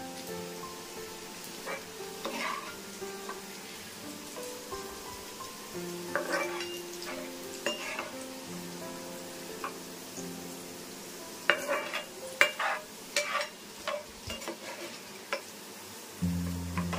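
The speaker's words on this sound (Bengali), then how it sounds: "পেঁয়াজটা ভাজা ভাজা হয়ে গেছে, এবার পেঁয়াজটাকে আমি তুলে নেবো।" Onion fries in a pan as it is stirred, a low steady sizzle marked by scattered scrapes and clinks of the spoon against metal, with louder bursts of clatter toward the end.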